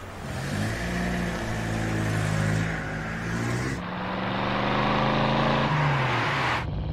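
A car engine revs and accelerates continuously, with steady mid-range engine drone that rises in pitch twice, close and fairly loud throughout with no talk.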